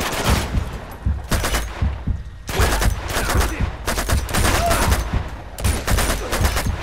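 Gunfire in Uncharted 2: Among Thieves Remastered, with close, loud bursts of rapid shots in several volleys separated by short pauses.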